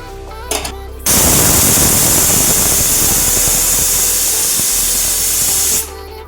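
A pressure cooker full of coffee whistles loudly in a Bengali kitchen, a sustained hissing jet of steam that bursts in, holds steady for about five seconds, then cuts off.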